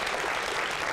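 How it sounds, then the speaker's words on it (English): An audience at a community listening-tour event for the Burges feeder pattern applauds, a dense, steady wash of clapping with no voices over it. "please give them a round of applause"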